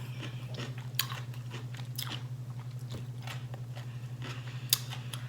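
Someone eating pickles in a timed eating challenge, with steady wet crunching and chewing bites repeating close to the mic over a constant low electrical hum.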